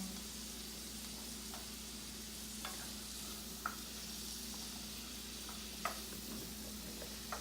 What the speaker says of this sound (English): you're just going to toss those around